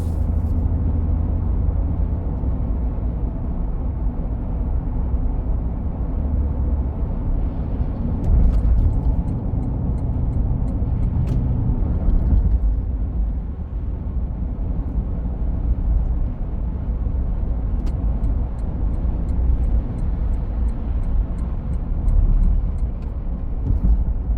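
Freeway traffic heard from inside a car merging onto the 405 North in Bellevue, Washington: a constant deep road rumble and tire roar with passing vehicles swelling now and then, steady and loud throughout.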